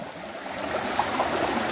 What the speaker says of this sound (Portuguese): Aí está a ponte. Muita água.